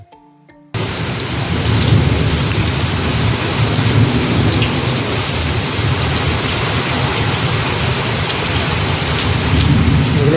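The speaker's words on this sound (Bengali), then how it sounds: "তোমাদেরকে বৃষ্টির আওয়াজটা শোনায়, কি জোর বৃষ্টিটা হচ্ছে দেখো তোমরা" Heavy rain with thunder pours down loudly and steadily, a dense unbroken roar with deep rumbling underneath, starting abruptly after a brief quiet moment and continuing without any voices.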